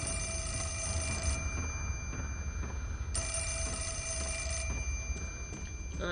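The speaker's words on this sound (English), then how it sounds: "and the phone's ringing." An old telephone bell rings in bursts in Project Zero: Mask of the Lunar Eclipse, two long metallic trills separated by a pause, moderately quiet over a steady eerie ambient hum.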